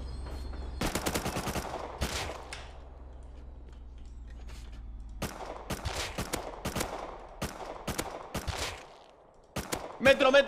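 Gunfire in the survival video game Rust: a burst of rapid shots early on, then scattered single and paired sharp shots later, fairly loud, with some game ambience between them and no speech over them.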